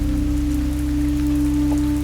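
Steady rain falls in a continuous soft hiss over a low, constant hum, even and unbroken for the whole stretch with no voices.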